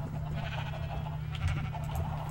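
Cows in the video game Minecraft give low in-game moos and bleat-like calls over a steady game hum, with no talking.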